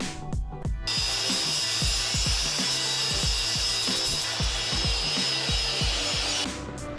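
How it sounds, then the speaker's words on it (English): A flap wheel on a power tool grinds sharp pieces off a 42-inch off-road rock buggy tire, a steady close high-pitched abrasive whine running continuously for about six seconds with low rhythmic rubbing thumps underneath, no talking. "I'm going to go ahead and hit it with the flap wheel, take some of these sharp pieces off"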